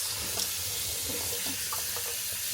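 Fresh cranberries rinsed under a steady stream of running tap water in a sink, the water's hiss and splash continuous and close throughout, with no voices.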